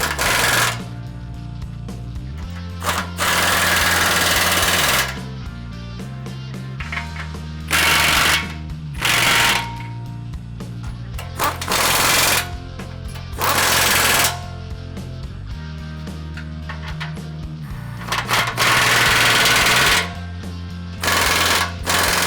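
A power tool tightens rear bumper bolts on a third-generation Toyota 4Runner in repeated loud, rattling bursts of a second or two each, separated by short pauses, with no talking.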